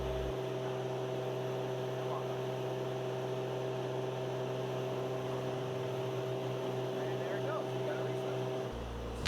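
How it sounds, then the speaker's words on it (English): A steady, moderately loud engine drone fills a Cessna twin-engine aircraft's cabin in flight, holding an even humming tone almost unchanged for the whole stretch. "Increase the throttle slowly to warm the engine up."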